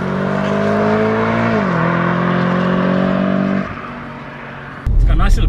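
An Audi RS4 engine revs loudly and steadily, then its tone drops at an upshift with a sharp exhaust burp before accelerating again, close by inside the car.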